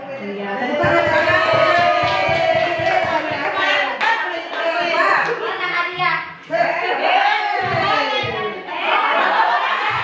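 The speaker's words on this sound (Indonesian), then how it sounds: "Tepuk tangan." Children clap their hands in a classroom, a loud burst of quick claps mixed with overlapping kids' voices, chatter and chuckles, the clapping strongest at the start and fading into talk.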